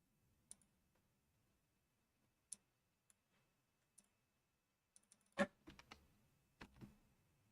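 Someone types on a computer keyboard in a quiet room, with sparse, faint single keystrokes spread out and a brief cluster of clicks near the end.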